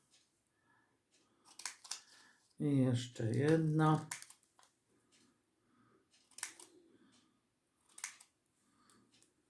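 Scissors cutting paper bows from drawing-pad paper for a kite craft: sparse, quiet snips and paper rustles, close by, with a brief stretch of speech in between.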